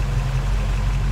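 Cable yarder engine running in Farming Simulator 22, a loud, steady low idling rumble with constant vibration and no variation.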